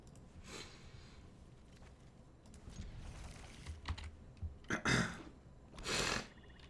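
A man clears his throat into a microphone during an online card-game stream, a few faint bursts over keyboard typing and quiet room noise, with no talking.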